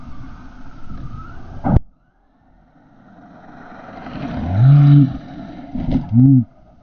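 DHK Maximus RC monster truck's electric motor revving in short bursts, rising and falling whines with a sharp clack, a swelling rev and two quick close blips near the end, loud and near.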